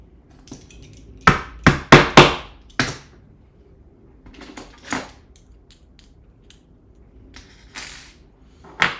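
An M5 screw and metal parts knock against a 3D printer frame during a kit printer build, a few sharp loud clacks and clinks clustered together, then scattered fainter taps, with no speech.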